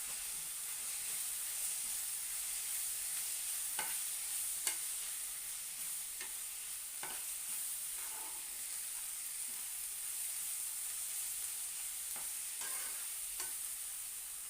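Onion-garlic masala being stirred into a dish frying in oil, a steady faint sizzle and hiss with occasional soft scrapes of a spoon against the pan, no talking.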